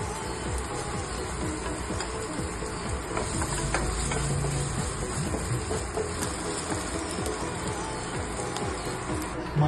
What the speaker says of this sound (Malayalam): അങ്ങനെ കുറച്ചൊന്ന് മൂപ്പിച്ചെടുക്കാം.